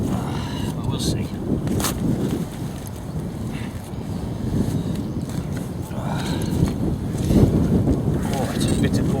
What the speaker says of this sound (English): it's a bitter cold wind today